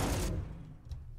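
Cannon-like gun firing in the Beast Battle Simulator video game: a brief, dense burst of blasts with a booming low end, over in about a second.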